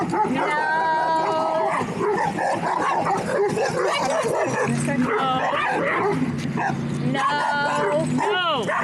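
A reactive dog barks, yips and whines continuously and frantically up close at another dog, while people talk over the commotion.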